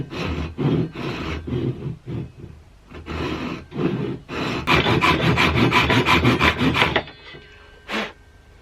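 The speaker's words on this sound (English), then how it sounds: "Just a little off-cutting on an old 2x4." Hand saw cutting across an old wooden 2x4, rhythmic rasping strokes in bursts, speeding into a fast flurry of short strokes before the cut stops, close by.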